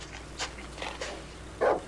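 A dog in the Darkwood video game makes short breathy panting and whimpering bursts, several uneven puffs over a couple of seconds, with one louder bark-like huff near the end, heard alone without speech.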